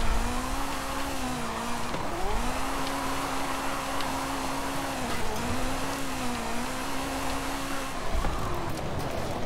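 A Ferrari F40 in Forza Horizon 5, set up as a drift build, slides through a continuous drift. Its engine holds a steady, wavering drone under a constant wash of tire squeal and road noise.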